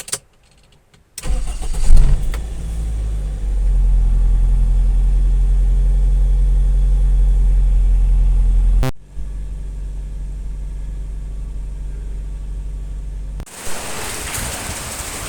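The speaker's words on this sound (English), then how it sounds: "Watch the ignition to have a feel of the engine condition." A modified Toyota SE Limited AE cranks and fires up, settling into a low, steady idle close to the microphone, with a brief dropout and a hissy rain-like wash near the end.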